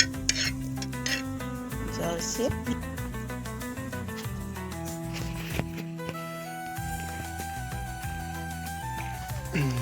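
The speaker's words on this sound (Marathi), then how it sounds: "मसाला मीठ आणि कांदा बिंदा टाकून मस्त मध्ये भाजी करणार आहोत" A vegetable curry with spices, salt and onion cooks outdoors, with steady stirring and faint sizzling close by under music and background voices throughout.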